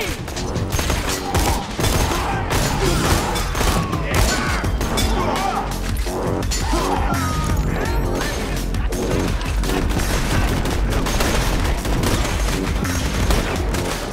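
Borderlands 2 game combat: dense, continuous gunfire with a sniper shotgun amid crashes and mechanical clatter, loud and busy throughout, with faint voices underneath.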